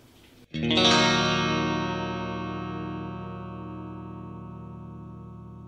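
An electric guitar runs through a switched-off effect pedal. One chord is struck and rings out clearly, then decays slowly over several seconds with no talking.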